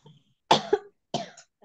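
A person with a lingering illness coughs several times in short, sharp bursts, close and alone in an otherwise quiet setting.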